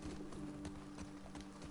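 Faint, rhythmic video-game horse hoofbeats clip-clop steadily at a trot beneath a constant low hum, soft and somewhat distant.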